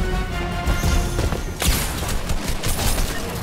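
Shotgun blasts in the video game Fortnite: a loud burst of sharp cracks and crashing impacts, with one especially strong blast midway through, packed into a busy, continuous stretch of game noise.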